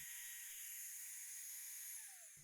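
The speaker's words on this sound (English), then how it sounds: "Now I can drop in the router at the back, fire it up, and make the line." A router cuts a groove line into a wooden board held under a clamped jig, giving a steady high-pitched whine at close range that holds for about two seconds and then drops in pitch as it winds down.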